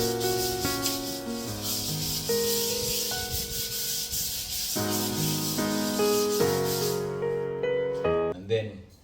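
Drywall compound over a patched hole being sanded smooth, with a faint, steady rubbing hiss running beneath a voice that talks throughout.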